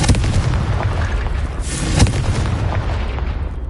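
A Confringo explosion spell from the video game Hogwarts Legacy goes off as a loud, dense, continuous burst of blasting noise. A sharper boom swells up near the two-second mark, and no one speaks.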